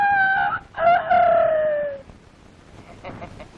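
A man imitates a rooster, letting out a loud drawn-out crow that slides downward and fades, followed by quieter background noise.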